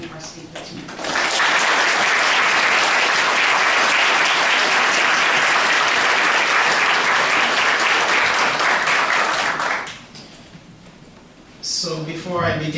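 An audience at an evening academic lecture claps to welcome a speaker, a dense, loud applause that holds steady for several seconds, then fades to a few scattered claps before a voice starts.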